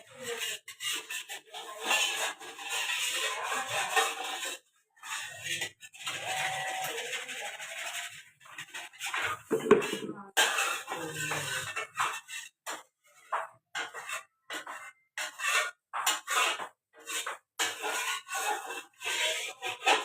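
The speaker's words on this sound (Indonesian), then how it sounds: "Kasih air saja dibilas." Water splashes and scrubbing sound as an old-style, non-Teflon wok is rinsed and washed. The sound comes in irregular bursts of rubbing and sloshing, with short pauses between them.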